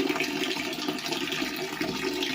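Toilet in a farm property's comfort room at Majayjay flushing, a steady rushing water noise held at moderate level throughout with no voices.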